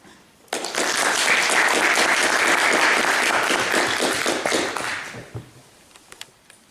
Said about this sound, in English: que nous applaudissions notre invité avant de céder la parole